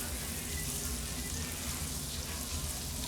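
A few diced cloves of fresh garlic sizzle in a hot skillet, a steady close frying hiss that holds even throughout at moderate loudness.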